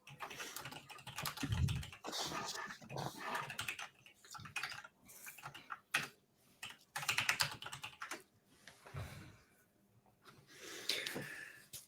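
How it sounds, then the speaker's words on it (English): Keyboard typing during a session deploying a Hashi stack for Minecraft, a steady run of quick clicking keystrokes in bursts with pauses, close and moderately loud, breathing audible between. "my God, typing."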